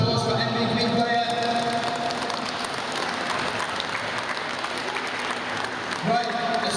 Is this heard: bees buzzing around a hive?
no